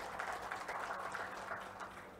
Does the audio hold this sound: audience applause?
yes